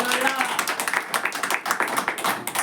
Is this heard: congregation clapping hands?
yes